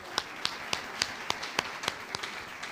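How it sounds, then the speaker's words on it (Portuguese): Congregation in a church service giving a round of praise applause, heard as a slow, regular series of about nine sharp claps, fairly faint and distant, with no one talking. "Cadê as palmas maravilhosas para Jesus?"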